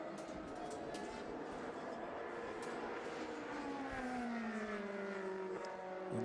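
A Lamborghini Trofeo race car at Le Mans passes the start-finish line, its engine note rising and then falling in pitch as it goes by at a distance, fairly faint, with the circuit's steady noise behind it.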